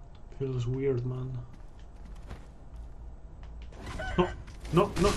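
Chickens in Sekiro cluck and squawk in short bursts at the start and end, mixed with game sounds and someone talking.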